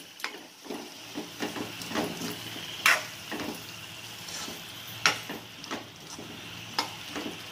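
Masala tempering for a North Karnataka potato gravy crackles and sizzles in a pan, with sharp pops and spoon scrapes at a steady, uneven rhythm, close and fairly quiet.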